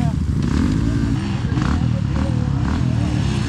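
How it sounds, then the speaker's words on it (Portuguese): On a steep dirt trail at Jerônimo Monteiro, a dirt motorcycle's engine snarls and revs close by under excited shouting voices, with some clattering mixed in. "Fala de repicar essa moto,"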